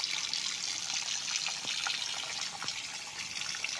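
Steady flowing water from a natural spring beside a river, with a soft continuous rush and occasional small drips or splashes, close by, with no voices.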